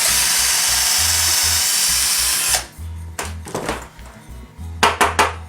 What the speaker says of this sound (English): drill our wood dowel.